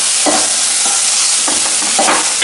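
Mushroom pieces are stir-fried in a hot pan with a loud, close, continuous sizzle and several rhythmic scraping strokes of a spatula.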